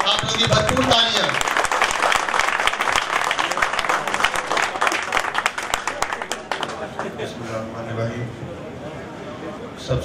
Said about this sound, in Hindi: आप लोगों की भरपूर तालियाँ।